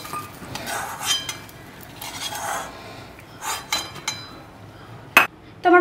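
Metal utensils clink and scrape against a pan while fried pointed gourd is lifted out, a few scattered bursts of stirring and scraping followed by two sharp clanks near the end, close by.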